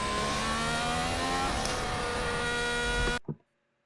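Formula 1 car engine roaring loud and steady at high revs with a rising whine, cutting off abruptly near the end, leaving near silence.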